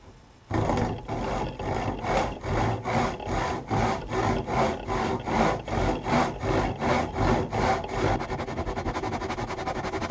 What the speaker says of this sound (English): I've just got my rip saw, and I haven't even sharpened this saw yet